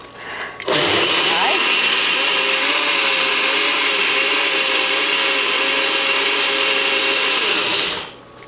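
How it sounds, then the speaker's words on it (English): A Vitamix S30 personal blender blends a smoothie, starting with a sharp click and then holding a loud, steady high whine for about seven seconds before spinning down. "And I'm gonna put the top back on. And I'm gonna blend that up."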